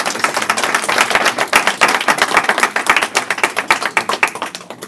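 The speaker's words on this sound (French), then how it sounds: "Est-ce qu'on peut l'applaudir encore une fois?" Audience at a marketing conference in France applauding: dense, sustained clapping from many hands, fairly close and loud, with individual claps still distinct and slightly thinning toward the end.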